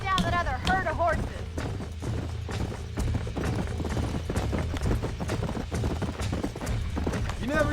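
Horse hooves clip-clop steadily through Red Dead Redemption gameplay while a herd of horses is tracked, a continuous rhythmic trot with a horse whinny near the start and a rumbling game soundtrack underneath.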